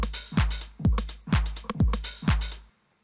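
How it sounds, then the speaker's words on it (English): A simple drum loop plays alone: deep kick thumps with snappy hits and steady hi-hats in an even rhythm, then stops abruptly. "I've got a really just kind of basic beat here"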